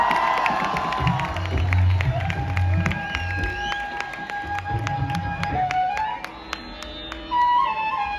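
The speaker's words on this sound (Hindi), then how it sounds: "आप लोगों की तालियां बजती रहनी चाहिए साथ साथ में" A university audience at Lovely Professional University claps and cheers, with crowd shouts and whoops rising and falling across the stretch alongside stage music, the sound dense and sustained throughout.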